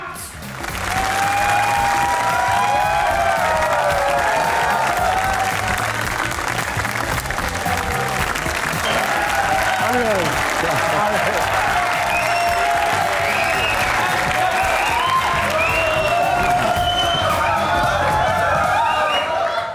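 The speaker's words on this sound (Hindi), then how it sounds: "आपकी भरपूर तालियों में" Studio audience applause and cheering on a comedy talk show as a Sufi rock singer is introduced, loud dense clapping sustained for nearly twenty seconds with crowd noise and whistles mixed in.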